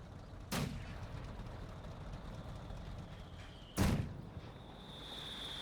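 Mortar fire in the strategy game Company of Heroes, two separate heavy thumping shots a few seconds apart over a low battlefield rumble, with no voices.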